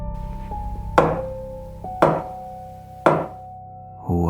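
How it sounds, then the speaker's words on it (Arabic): Three loud, evenly spaced knocks for a radio horror drama, each a sharp thud with a short ring-out over a low steady hum and tonal drone, with no voices. "هو ده صوت خبط؟"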